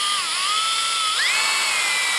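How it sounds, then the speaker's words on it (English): A power drill bores into a metal chair ram part in one loud, continuous high-pitched whine, with the pitch dipping and then rising as the bit bites, close and alone. "I'm going to hold this and drill at the same time."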